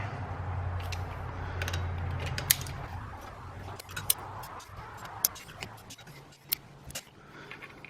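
Torque wrench tightening clutch bolts during a clutch install on a Toyota truck with a TDI engine swap: several sharp, isolated clicks spaced a second or so apart over a steady low hum.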